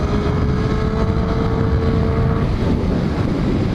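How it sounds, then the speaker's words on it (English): A race car accelerates at about 100 mph down a short straightaway at Thompson Speedway in Connecticut, its engine a loud, steady roar with heavy wind buffeting throughout. "that's 100 miles an hour accelerating down that little straightaway"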